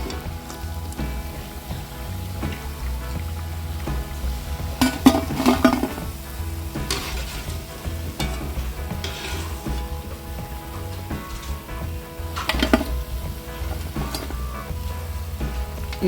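Mysore bonda fritters deep-frying in hot oil, a steady dense sizzle and bubbling throughout with occasional louder clatters and spoon scrapes in the pan, no voices.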